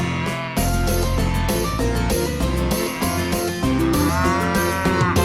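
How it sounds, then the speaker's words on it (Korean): Cattle moo repeatedly within a children's farm animal song, the drawn-out lowing calls set against bright musical accompaniment. "여기서 음메 음메 음메 여기저기 음메"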